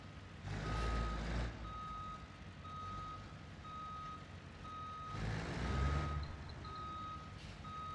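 A reversing truck in the BeamNG driving game sends out a steady series of evenly spaced electronic beeps over a low diesel engine rumble that swells twice.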